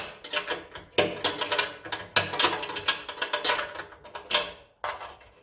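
A ratchet spanner loosens bolts on a 1957 Ferguson FE35 TVO tractor, giving several loud, close bursts of rapid clicking with short pauses between them and no voices.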